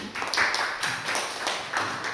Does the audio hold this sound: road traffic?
no